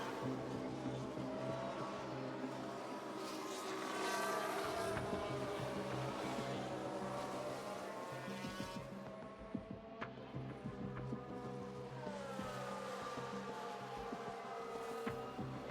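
Race car engines in F1 Manager 22, several cars revving and whining past with pitch sweeps and some tire squeal, steady and fairly loud with no talk over it.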